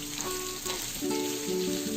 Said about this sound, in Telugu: ఆనియన్స్ కొద్దిగా లైట్ బ్రౌన్ కలర్ వచ్చేంత వరకు ఫ్రై చేసుకోవాలి.